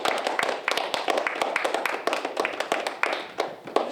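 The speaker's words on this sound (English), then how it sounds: "So let's give a round of applause for all you guys competing here today." Audience applause at a team quiz-style competition, a scattered burst of claps at close-to-moderate distance that swells and dips in uneven waves for a few seconds.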